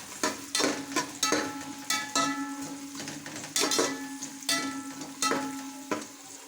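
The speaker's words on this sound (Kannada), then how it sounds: "ಇವಾಗ ಈರುಳ್ಳಿನ ಹಾಕಿ ಒಂದು 2 ನಿಮಿಷ ಚೆನ್ನಾಗಿ ಫ್ರೈ ಮಾಡ್ಕೊತಿದ್ದೀನಿ" Chopped onions fry in oil with dried red chillies in a pan, cooking for a drumstick-leaf pulao. A steady sizzle runs throughout, broken by repeated scraping stir strokes at a fairly even pace, close by and with no talking.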